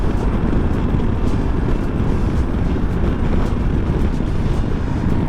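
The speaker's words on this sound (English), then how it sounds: "But the way this motor spools up, the electric whir that you get in your head," Zero DSR/X electric motorcycle under way at speed, a steady broadband rush of motor whir blended with heavy wind buffeting, constant and loud with no pauses.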